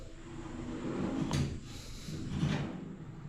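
In a bathroom, the drawer inside a mirror cabinet slides open and then shut, two soft scraping movements about a second apart against a quiet room background.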